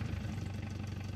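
A vehicle engine idles steadily nearby, a continuous low rumbling drone with no pauses and no talking.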